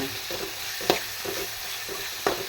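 Ingredients sautéing in a pan for kaaramani curry, a quiet continuous sizzle with a few clicking taps of a stirring spoon against the pan, close up and without talk.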